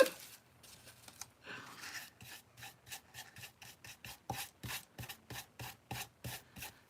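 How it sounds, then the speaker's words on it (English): Hand sanding of a Dollar Tree craft piece: after a few irregular rubs, a steady rhythm of short, dry scraping strokes repeats about twice a second, close and fairly quiet, with no talking. "And I'm going to sand it."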